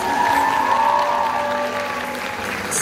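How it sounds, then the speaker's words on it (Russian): Audience applause for the organizers at an awards ceremony, a steady dense patter of clapping sustained throughout, with faint tonal music or hum underneath. "Еще раз аплодисменты организаторам."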